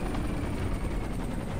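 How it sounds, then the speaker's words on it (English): Dense, continuous rotor roar of an enemy helicopter in the video game Ghost Recon Future Soldier, loud and steady without speech. "Hostile chopper inbound!"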